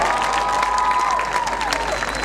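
At Langston University's 2014 graduation ceremony, graduates applaud their deans with a broad wash of clapping and light crowd noise, while a faint high tone drifts above the applause.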